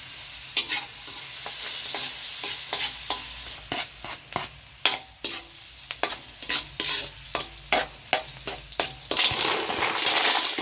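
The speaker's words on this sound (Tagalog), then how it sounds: "Ayan, ang mga pampalasa niya. Okay. Magisa na tayo." Spices sautéing in margarine in a pan, cooked for ginataang kohol: a steady sizzle and frying hiss runs throughout, broken by a series of sharp stirring scrapes of a utensil against the pan, fairly close and clear.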